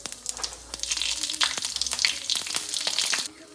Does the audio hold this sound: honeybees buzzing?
no